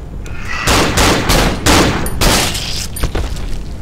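Gunfire in the video game Cry of Fear: a run of five or six loud, evenly spaced gunshots, each sharp crack trailing into reverb, close and alone with no talk.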